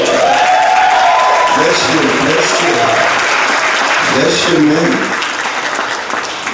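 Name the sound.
applause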